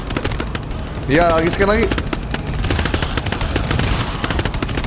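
Rapid bursts of automatic gunfire in the co-op shooter GTFO crackle steadily throughout, with a voice speaking briefly over the shots.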